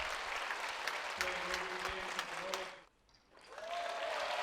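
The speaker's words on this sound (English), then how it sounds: "the crowd clapping away" Squash crowd at the Qatar Classic applauding after a long rally, steady clapping that fills the venue before dropping away briefly, then resuming; faint voices murmur underneath.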